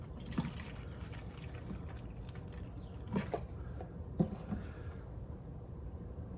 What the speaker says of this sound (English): So let me go and fill this up with formula